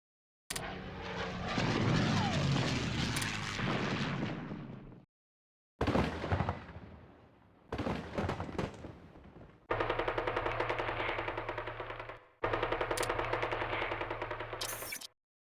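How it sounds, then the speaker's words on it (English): Explosions and rapid gunfire from a bombing run in the strategy video game Hearts of Iron III, arriving as loud sustained bursts broken by short silences, with dense rattling fire in the later stretches. "For an additional bombing run."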